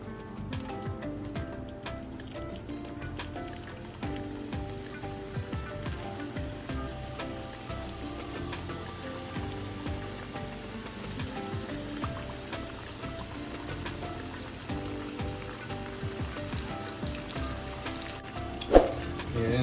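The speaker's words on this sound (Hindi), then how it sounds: "अब ये ऑयल गर्म हो गया है, इसमें अब समोसे फ्राई कर लेते हैं।" Samosas deep-fry in hot oil, giving a steady, dense crackling sizzle that continues evenly throughout, fairly quiet, with a small clink near the end.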